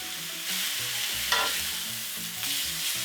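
Thin-cut beef steak for fajitas sears in a hot pan with a loud, close, continuous sizzle and one brief sharp flare of crackle partway through, with no voices.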